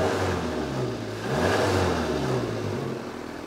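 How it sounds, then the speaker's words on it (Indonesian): A 2008 first-generation Daihatsu Sirion engine revs up and down through an aftermarket racing exhaust, a steady rumbling drone that rises in pitch and eases off, close and fairly loud. "Kemudian ini suara knalpotnya sudah diganti dengan racing"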